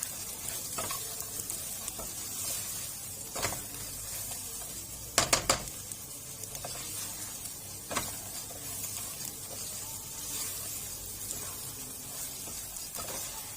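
Salt and black pepper stirred into food frying in a pan for an Egyptian Ramadan dish, a steady soft sizzle broken by a few sharp scraping stirs and clinks near the middle.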